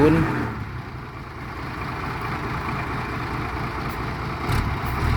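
A Ford 7710 tractor engine runs steadily at close range, a continuous low rumble holding level throughout with a slight swell near the end, as if idling or working beside a pond.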